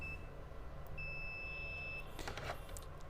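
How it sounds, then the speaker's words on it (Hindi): A multimeter set to continuity gives short, thin, high electronic beeps while testing a 50-volt capacitor on an RO water purifier power board: one brief tone, then a longer steady beep, with faint handling noise behind it. "ये चार्ज डिस्चार्ज के केस में बीप साउंड करेगा"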